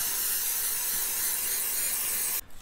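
A continuous hissing aerosol spray sealant runs steadily for over two seconds, then cuts off abruptly.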